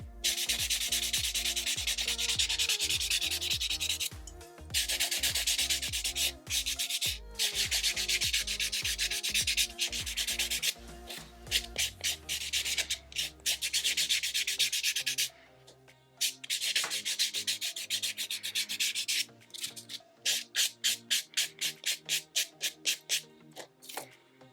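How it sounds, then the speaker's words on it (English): Fingernails being buffed with a buffing block, close rapid bursts of dry rasping strokes in repeated runs with short pauses, ending in a string of quick separate swipes; no talk. "I always like to buff my nails with a buffing block"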